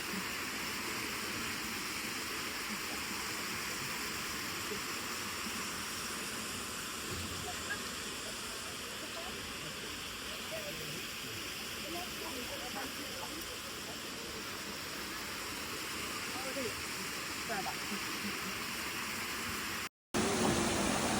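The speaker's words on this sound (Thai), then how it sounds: "น้ำตกมิโนะครับ โอซาก้าครับ" Minoo waterfall in a park in Osaka roars as a steady, broadband rush of falling water, continuous and fairly distant-sounding throughout, with a brief cut near the end.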